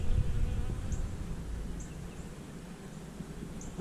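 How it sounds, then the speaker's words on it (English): Honey bees busy at the entrance of a Demaree-split hive, a steady low buzzing drone with occasional brief higher whines as individual bees fly close past, heard alone at moderate level. "there are bees coming in and out of the front"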